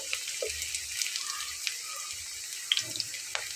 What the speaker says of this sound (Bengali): এখন আমি তেল ঝরিয়ে ঝরিয়ে উঠিয়ে নেব